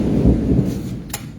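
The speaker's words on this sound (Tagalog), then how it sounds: "Naririnig yung tulog ng kidlat." Thunder rumbles during a rainstorm in Taiwan, a short, loud, close low boom that fades quickly, followed by a brief crack.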